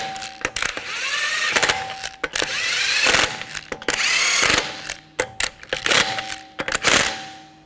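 A power tool snugs down wheel lug nuts on a Buick Encore during front wheel bearing work, in several loud bursts of whirring and rattling impact with short pauses between them.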